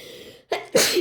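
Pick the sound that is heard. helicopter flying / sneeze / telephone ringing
sneeze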